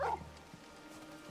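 A dog in the video game Final Fantasy XVI gives a single short, fairly faint bark at the start, followed by quiet game ambience.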